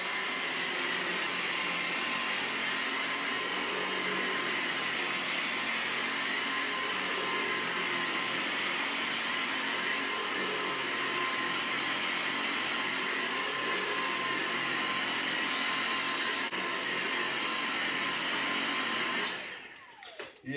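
A battery-powered Dyson stick vacuum cleaner runs at 21.6 volts with a steady, loud whining motor hum and airflow rush, continuous and close for about nineteen seconds before switching off abruptly at the end.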